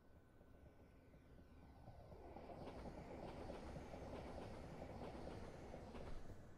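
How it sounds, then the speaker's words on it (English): A train passes a station platform in a South London train simulator game, rising from a faint rumble to a loud, steady rolling clatter with rhythmic wheel clicks that lasts to the end. "Let's see if this train goes by."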